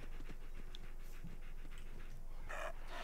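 Dog panting in the video game Fallout 4, a steady rhythmic huffing that stays close and fairly loud over a constant game background hum, with no talk.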